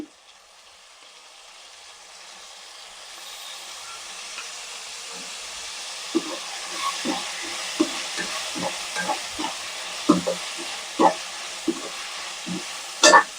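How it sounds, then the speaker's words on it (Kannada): Yogurt being stirred into egg biryani masala in a pan: a steady low sizzle builds, then a run of distinct spoon scrapes and taps falls at irregular intervals, close, with no voices. "ಮಿಕ್ಸ್ ಮಾಡ್ಕೊಳ್ಳಿ ಕ್ಲೀನಾಗಿ."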